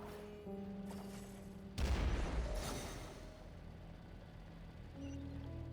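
A bomb going off in the video game Genshin Impact, a sudden loud boom over the game's background music, decaying over about a second and leaving a rumbling tail.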